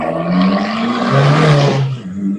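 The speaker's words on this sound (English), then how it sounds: "Let's get a drive by on this hot rodded Fiat 500 Abarth." A hot-rodded Fiat 500 Abarth passes close by, its loud engine swelling into a raspy peak and fading as it drives off, with no voices over it.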